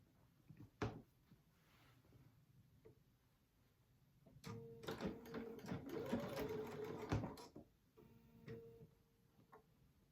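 Sewing machine back stitching a pinned quarter-inch seam allowance on a crochet needle case, with a few quiet clicks and handling taps before a steady mechanical whir of stitching runs for about three seconds, close by.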